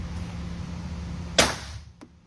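A single sharp pistol shot at an outdoor shooting range, a Glock 19X or CZ, cracking over low background noise and followed by a faint short echo.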